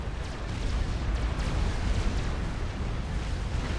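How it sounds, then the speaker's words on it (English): A regular missile launches in Supreme Commander, a real-time strategy game, with a steady, dense rumbling roar and scattered muffled booms that hold at a constant loud level throughout. "Missile is outbound"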